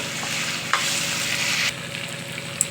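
Curry leaves sizzle and crackle loudly in hot oil for a stuffed brinjal curry, a steady close frying hiss with a sharp pop near the start and another toward the end, no voices.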